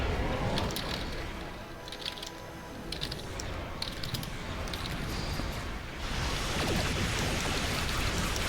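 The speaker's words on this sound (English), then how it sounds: "it is still raining like crazy" Heavy rain pouring steadily outdoors, a dense, continuous hiss with scattered drop impacts that swells louder toward the end, with no talk over it.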